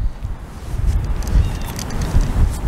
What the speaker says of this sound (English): It's just a little windy today